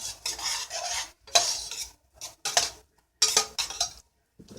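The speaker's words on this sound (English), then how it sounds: "Stir it up." A spoon scrapes and clinks around a pot of tomato soup with crushed red pepper in four or five short, separate stirring strokes, close and fairly quiet, with no talking.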